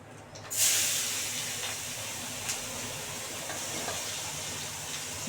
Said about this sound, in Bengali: পেঁয়াজটা মোটামুটি লাল করে ভাজা হয়ে গেছে